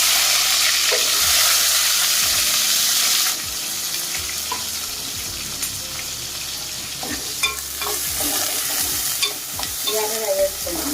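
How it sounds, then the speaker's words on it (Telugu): Onions frying and sizzling in hot oil in a pan for prawn curry, a steady loud crackling hiss with occasional stirring scrapes, no talking. "ఆయిల్ వేసుకున్నామండి, ఇంటాక పెట్టుకొని ఆయిల్ వేసుకున్నామండి. ఉల్లిపాయలు వేసుకున్నాము."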